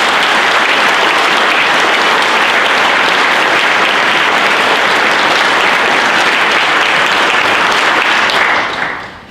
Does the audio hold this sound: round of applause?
yes